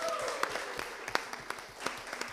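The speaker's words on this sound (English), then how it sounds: "Give them a round of applause." An audience at a live televised debate special applauds the winning team, a steady burst of clapping from a moderate crowd with some scattered sharper claps.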